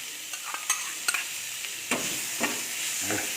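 Beef frying in a pan with lemongrass and kaffir lime leaves, a close steady sizzle broken by repeated scraping stirs and light clacks of a utensil, no speech.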